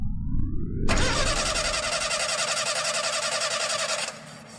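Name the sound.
vehicle engine starting for takeoff, radio drama effect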